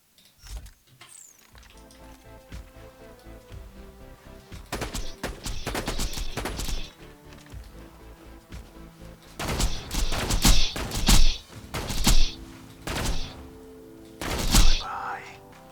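Sniper rifle shots from the Pimpernel and a Slag sniper in Borderlands, sharp loud cracks in scattered clusters over steady game background sound, with some speech.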